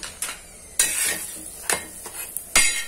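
Til-gul poli, a sesame and jaggery flatbread, roasting on a hot griddle: a soft ongoing sizzle broken by several sharp scraping clatters as it is pressed and turned, with no talking.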